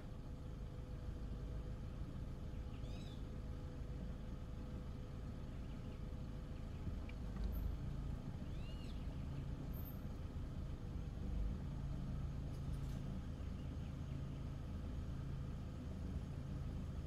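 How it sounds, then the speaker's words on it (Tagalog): Long line of cars idling in heavy traffic in Port of Spain, Trinidad, after rain, a steady low engine rumble with faint distant honks and squeaks, continuous and unbroken. "Ang haba ng traffic na ito."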